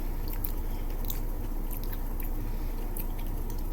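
Crunchy Dairy Queen treat being bitten and chewed up close, a steady run of soft crunching and squishy mastication sounds with no talking.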